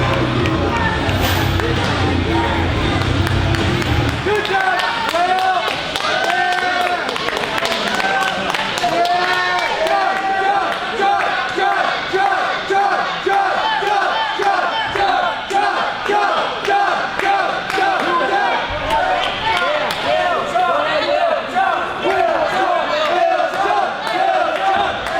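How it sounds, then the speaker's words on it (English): At an independent wrestling show in Tiffin, a dense crowd roars, cheers and claps rhythmically and continuously throughout, loud and reverberant, with shouting voices mixed into the noise. "Tiffin crowd giving it up."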